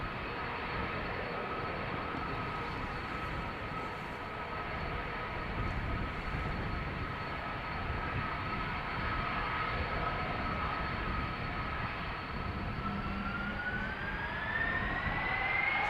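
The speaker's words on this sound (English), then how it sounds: "lining up at the threshold at the moment is an A330 from Delta" A Delta Airbus A330 airliner lines up at the threshold of runway 36L at Amsterdam Schiphol, outbound to Detroit; a steady, loud engine roar runs throughout, with a rising whine building toward the end.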